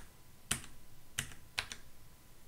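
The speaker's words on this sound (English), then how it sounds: "You can also use the arrow keys on your keyboard." Arrow keys on a computer keyboard are pressed three times, each a crisp close click separated by short pauses in a quiet room.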